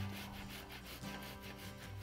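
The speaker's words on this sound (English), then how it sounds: "grate my tomato down, creating a nice smooth tomato pulp" Ripe tomato rubbed down a metal box grater into a bowl to make a smooth pulp, giving a steady rasping scrape in rapid repeated strokes, close and fairly loud with no talking.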